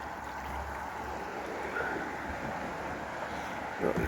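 The River Abel flows beside St Mary's Church in Odstock, a steady close rush of moving water mixed with light wind buffeting, continuous without pauses.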